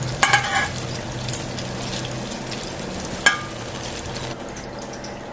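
Fish sizzles and crackles in hot oil in a home kitchen pan, a steady close frying hiss with a few sharp clinks of a utensil against the pan.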